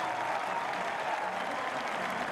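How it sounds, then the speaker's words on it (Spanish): A large crowd at a rodeo final in Chile applauds and cheers in a continuous, dense ovation, steady and fairly loud throughout. "la ovación del público para el más grande de todos"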